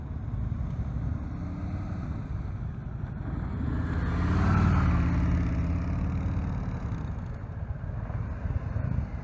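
Heavy 900 lb motorcycle running during slow riding practice, with a steady low rumbling engine drone that swells briefly midway, continuous and fairly close.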